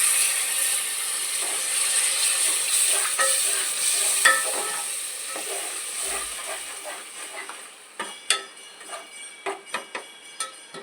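A loud, steady sizzle and hiss as water is added to spice mix frying in oil in a hot pan, with scattered clinks and scrapes of a utensil, then sharper crackles toward the end.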